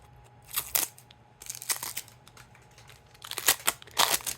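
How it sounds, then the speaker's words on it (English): Cellophane wrap being torn off a sealed deck of playing cards, with several bursts of crisp crinkling and ripping separated by short pauses, close and fairly loud. "these are still fully sealed, so we're going to have to crack that cellophane"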